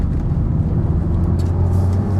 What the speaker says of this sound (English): the difference in engine volume is unbelievable, isn't it?